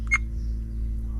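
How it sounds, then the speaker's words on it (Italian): A Dasaita X9S 4K dash cam in a Qashqai gives one short electronic beep as recording resumes, over a low steady car hum. "la dashcam emetterà nuovamente il beep che ci dice che ha ripreso a registrare in modalità normale"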